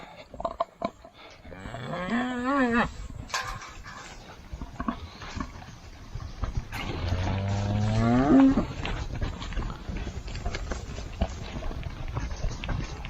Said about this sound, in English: Big mama cow.